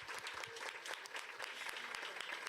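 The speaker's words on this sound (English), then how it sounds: "let's give a round of applause to the panelists today." An audience at a women CEOs panel event applauds the panelists, a steady wash of clapping from many hands that stays even and moderately loud throughout with no voices over it.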